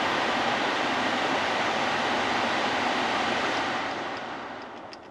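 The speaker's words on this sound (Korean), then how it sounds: "풍량 조절 하시면 네, 바람이 아주 시원하게 이렇게 나옵니다" Air blows steadily from the air conditioning vents of a Kia K7, a broad close whooshing rush that holds constant, then fades toward the end.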